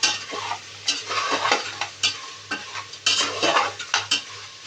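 Mutton being stir-fried with ginger and garlic for a Pakistani-style meat curry, a spoon scraping and clinking in the pot at an irregular pace over a steady close sizzle, with no talking.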